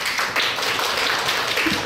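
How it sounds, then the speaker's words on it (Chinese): A hall audience applauds to welcome guests at a formal alliance ceremony between universities and a hotel group, with steady, dense clapping that fills the whole moment at an even level. "再次以最热烈的掌声欢迎并感谢各位师长贵宾的莅临"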